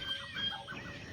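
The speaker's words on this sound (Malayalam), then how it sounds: "അപ്പോൾ ഇതാണ് കേട്ടോ നമ്മുടെ കോഴിക്കൂട്" Chickens cluck at close range at a poultry coop in a short burst of soft, overlapping calls.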